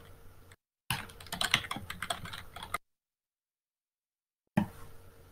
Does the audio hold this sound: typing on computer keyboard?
yes